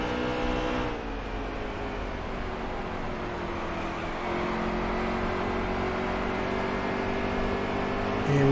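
A NASCAR Heat 3 Xfinity Series race car at Phoenix drones with a steady engine roar that dips briefly then swells again, continuous and close, with no talk.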